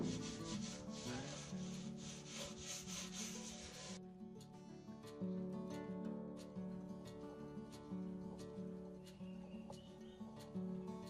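Brisk, rhythmic rubbing and scrubbing strokes clean a tractor part with lacquer thinner, close and fairly quiet, with the strokes repeating steadily and no voices heard.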